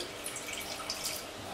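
White wine vinegar poured into a pan as the base for a béarnaise sauce, a soft, steady liquid stream with faint dripping, heard close and alone without talk.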